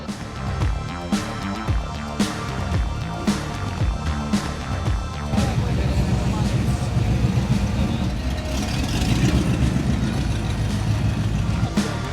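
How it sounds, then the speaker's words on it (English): Classic American cars, 1985 or older, rumble at an outdoor car show in Old Town Kissimmee, Florida, a continuous loud engine drone with layered exhaust burble and occasional revving that grows slightly denser midway. "it's all classic cars, 1985 or older, so there's loads of American classics here and the sound of them is just amazing"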